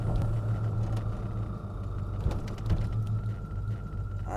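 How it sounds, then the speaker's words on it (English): The blower motor of a 1986 Chevrolet K10 Silverado runs as a steady airy whir with a low hum beneath it, close and continuous, with faint mechanical clicks and no talk. "blower motor's working on all the speeds"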